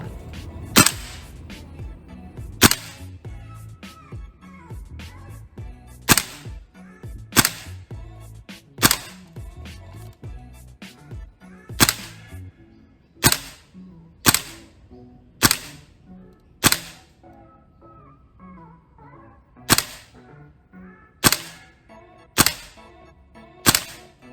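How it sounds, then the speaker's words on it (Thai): A VFC M110 SASS gas airsoft rifle firing, sixteen or so sharp, loud cracking shots at irregular intervals of one to three seconds, with quiet background noise between them. "ปืนพร้อมที่จะยิงแล้ว"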